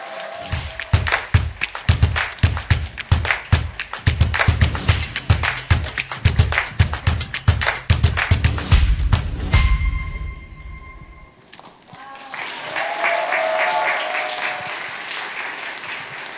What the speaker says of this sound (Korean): 그러면 정세랑 작가님을 큰 박수로 맞아주시기 바랍니다.